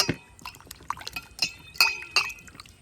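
About a kilogram of large mangoes is washed in water, with irregular close splashes, drips and hard knocks against a container.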